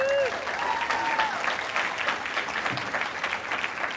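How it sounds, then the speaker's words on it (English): Audience applause at a hospital health careers summer internship closing ceremony, a steady wash of many hands clapping that runs the full length at an even, sustained level. "So how about a round of applause for the parents?"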